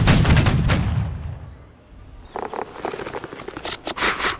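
Rifle volley during a video game basic training drill, a loud burst of overlapping shots at the start, then a brief quiet lull followed by scattered lighter cracks and clatter.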